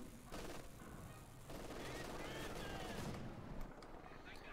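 Bursts of MG-42 machine gun fire in Company of Heroes 2, a World War II strategy game, rattling steadily for several seconds amid other battle noise and overlapping commentary.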